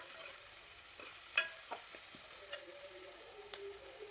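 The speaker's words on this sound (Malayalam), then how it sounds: "കുറച്ച് കറിവേപ്പിലയും ചേർത്ത് കൊടുക്കുക. എല്ലാം ഒന്ന് നന്നായി വാടി വരട്ടെ" Curry leaves sautéing in a pan for Kerala-style egg curry give a faint, soft sizzle, broken by a few light clinks of stirring, with no one speaking.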